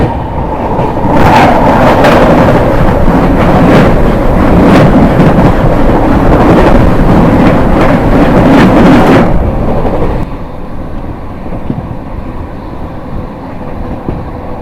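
A New Delhi–Howrah Rajdhani Express thunders past close by, with a loud, steady rumble and rattling wheels for about nine seconds before it drops to a quieter, lingering rumble.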